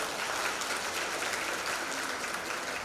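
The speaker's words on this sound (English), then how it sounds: "Let us applaud the graduates, please." A crowd at a graduation ceremony claps steadily and loudly for graduates throughout, a dense wash of applause with no pauses and no voices standing out.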